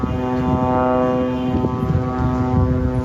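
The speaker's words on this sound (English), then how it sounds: "The sound of Israeli drones hovering over Beirut." Israeli drones hover over Beirut, a steady droning propeller hum with a sustained tonal whine that holds constant and close throughout, with no talking.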